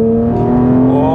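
A Porsche 911 GT3 Touring engine revs and accelerates, a loud, steady rising mechanical tone with strong harmonics, close and alone without talk.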